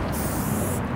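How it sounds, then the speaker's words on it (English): A steady, close hiss of spray released in one continuous burst, even and unbroken for about a second. "it's extremely soft spray, very controllable."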